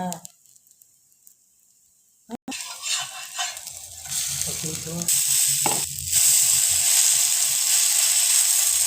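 Rice flour adai frying in a pan, a soft sizzle that starts after a quiet first couple of seconds and grows steadily louder and hissier, with occasional scraping of a spatula.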